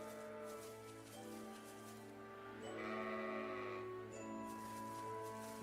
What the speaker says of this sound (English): Look at all the sheep here.